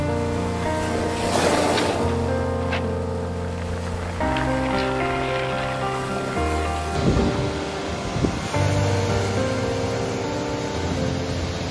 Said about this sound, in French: C'est impressionnant d'autant de bruit lorsque la mer se retire à travers ces galets.